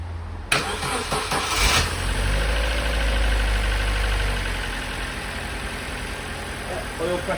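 A Vauxhall Corsa B engine cranks briefly and catches, then settles into a steady, close idle after a full oil service, running alone without talk.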